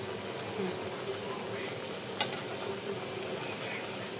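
Masala cooking in a pan for a dry chicken dish, giving a steady soft sizzle and frying hiss with light stirring, close and continuous with no voice.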